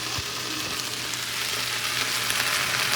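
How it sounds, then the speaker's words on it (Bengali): Okra frying in a pan on a home stove gives a steady, close hiss of sizzling oil that runs unbroken and slightly swells toward the end, with no voices. "এখানে আমি রান্না বসিয়ে দিয়েছি। এখানে হচ্ছে ভেন্ডি ভাজা আর রাজমা রান্না করব"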